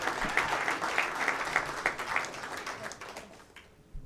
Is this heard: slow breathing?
no